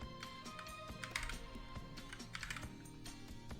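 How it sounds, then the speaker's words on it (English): Close keyboard typing, a quick irregular run of clicking keystrokes with brief pauses, no voices. "Typing on this keyboard is a bit harder to get used to"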